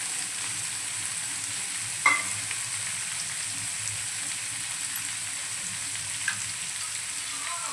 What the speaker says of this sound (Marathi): मीडियम गॅसवरती आपल्याला 2 मिनिटं एका साईडनं फ्राय करून घेऊया